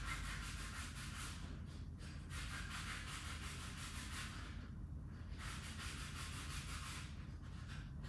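Hand sanding with sandpaper on a part for an ARCTOS 6-axis robot build: steady, rhythmic back-and-forth scratchy strokes with brief pauses, close and continuous, with no talking.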